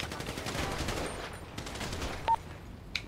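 Gunfire in GTA V with the FivePD police mod, a rapid burst of several shots close together followed by quieter scattered sounds.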